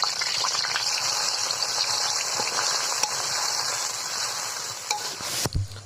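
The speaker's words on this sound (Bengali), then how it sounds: "আমাদের তেলটা গরম হয়ে গেছে আমাদের বেটে থাকা মশলাগুলো দিয়ে দিচ্ছি মশলাটা সুন্দর মতো কষায় না" Ground spice paste frying in hot oil for beef bhuna, a steady broadband sizzle with stirring scrapes throughout, close and fairly loud, ending with a few sharper clatters.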